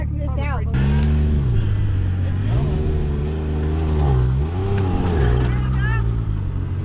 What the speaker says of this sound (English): Put it in low and I'll drive it right out of here